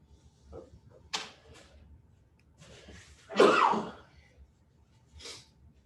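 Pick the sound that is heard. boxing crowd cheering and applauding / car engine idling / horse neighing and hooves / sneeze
sneeze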